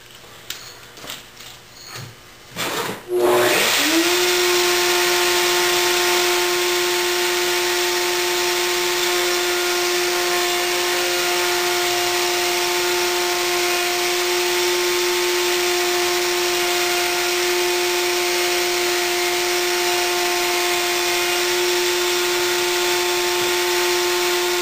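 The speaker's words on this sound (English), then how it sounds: "we're going to demonstrate how to run a piece of wood through a router" A router spins up with a sharp rising whine after a few handling knocks, then holds a loud steady high-pitched drone as it cuts a round-over edge on a piece of wood, close and continuous with no talking.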